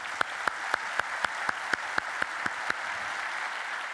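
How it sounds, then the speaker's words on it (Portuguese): A lecture audience in Guimarães claps for the sound crew: a steady bed of crowd applause with one nearby pair of hands striking sharp, evenly spaced claps on top about four times a second, fading out near the end. "uma grande salva de palmas para eles"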